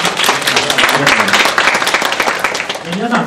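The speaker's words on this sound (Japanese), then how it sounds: "皆さんもう一度拍手でお願いします。" A gathering's audience gives a steady, loud burst of clapping for a guest speaker at a Japanese community event, filling the whole few seconds without a break.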